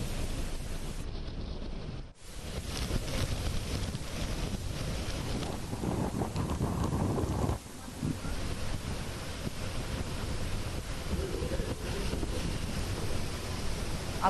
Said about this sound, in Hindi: तेज हवाओं और बारिश के रूप में समुद्री इलाकों में हालात ज्यादा इस वक्त खराब दिखाई दे रहे हैं